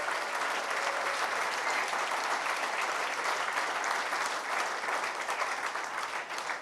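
Sustained applause from a large audience at a French corporate event speech, dense steady clapping that holds at full strength throughout without any voices over it.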